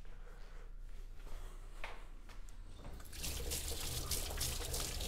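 A kitchen tap runs into a sink, with faint trickling that swells abruptly into a louder, steady rushing splash of hot water partway through.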